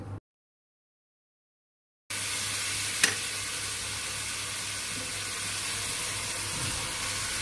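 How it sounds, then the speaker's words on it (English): Onions cook in drained meat juices and fat for a soup, a steady sizzle and stir running close after a brief silence, with one sharp clink early on and no talk. "we're gonna cook our onions in the meat juices and the fat that drained out"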